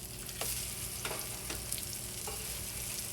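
Egg-soaked bread frying for French toast gives a steady, close sizzle in the pan, with a few brief crackling pops scattered across the sound and no talking.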